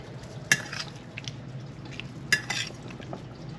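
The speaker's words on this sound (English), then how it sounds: "Just stir it up." A spoon stirs Cuban chicken and potato stew on a plate, giving two sharp clinks of metal on the dish with soft scraping in between, close and fairly quiet, with no talking.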